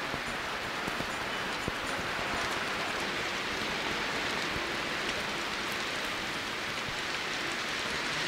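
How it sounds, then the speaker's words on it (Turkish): Steady, dense rain pours down with a constant hiss and occasional distinct drops striking nearby surfaces, continuous and fairly loud with no voices. "Gördünüz mü nasıl yağmur yağıyor?"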